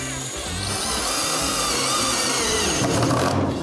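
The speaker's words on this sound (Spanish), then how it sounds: "Tengo aquí el taladro, unos tirafondos y vamos fijando las baldas." A power drill drives lag screws through shelves into a pallet-wood living room unit, whirring in one sustained, loud burst before trailing off near the end.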